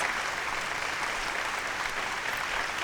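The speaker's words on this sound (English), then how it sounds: "Please give them a round of applause." Audience applause after a hammered dulcimer performance at a Lunar New Year celebration, a dense, even wash of clapping that stays constant and loud from start to finish.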